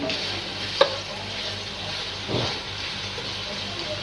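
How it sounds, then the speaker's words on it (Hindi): Thick-cut onion pieces fry in hot oil in a pan for a restaurant-style bhindi masala, giving a steady close sizzling hiss broken by a sharp utensil knock and a brief stirring scrape, with no talking. "प्याज को पहले फ्राई करेंगे। मोटा मोटा प्याज लिया है"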